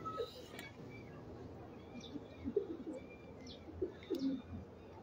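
Pigeons cooing nearby in a loft, several soft low coos scattered through the clip, mostly in the second half, over a quiet background with occasional faint chirps.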